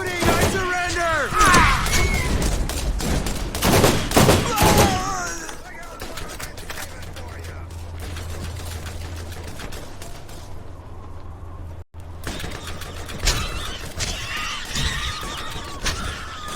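Gunfire and mechanical clatter from the Borderlands game, loud bursts of shots and impacts in the first seconds, then quieter rumbling action with more shots returning near the end, while voices talk over it.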